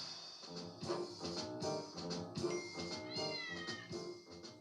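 A cat named Mr. Nibs meows repeatedly at close range, a run of drawn-out, tonal cries with short gaps, loud and clear with no talk over them.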